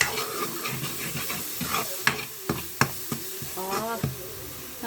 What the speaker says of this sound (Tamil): இப்போ வந்து மசாலாவை நல்லா கிண்டி விட்டுக்குவேன்.